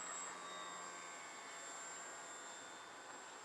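A small model aircraft engine whines steadily at a distance, a thin high-pitched drone that stays constant throughout without any talking.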